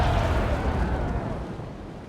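Heavy cannon broadside from a third-rate ship of the line in a naval video game, a loud booming burst with impacts that rumbles and slowly fades over about two seconds, no voices.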